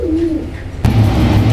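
Blue dumba pigeons cooing close by, a soft low coo followed by a louder, fuller round of cooing that carries on steadily with no talk.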